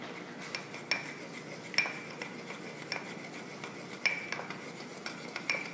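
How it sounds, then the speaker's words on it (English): A metal utensil stirs a cornstarch slurry in a small bowl, tapping and clinking against the sides in a quick, fairly regular rhythm, with soft swishing between strikes; close and quiet, with no voices. "So I'm going to mix that really well so there aren't any lumps."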